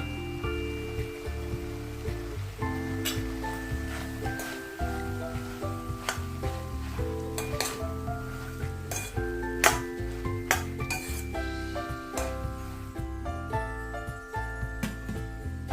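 A spoon clatters and scrapes in a pan as grated fresh coconut and coriander are stirred into frying padwal (snake gourd) with chana dal, repeated close metallic clinks over a soft sizzle, no voices.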